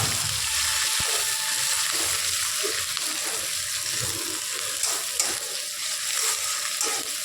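Sliced onion, slit green chilies and black cumin fry in hot oil in a pan, giving a steady hissing sizzle with occasional soft stirring scrapes, no voices.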